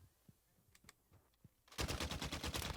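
A RAAL MG light machine gun opens up in Modern Warfare after a few quiet clicks and taps, then a loud, rapid stream of sustained automatic fire with evenly spaced shots runs to the end.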